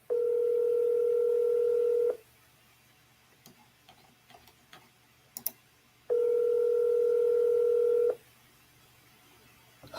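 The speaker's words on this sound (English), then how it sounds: "I dialed the wrong number." Telephone line tone on a call placed from a phone, sounding as two loud, steady two-second electronic tones separated by a four-second gap filled with faint clicks and handling ticks, with no talking.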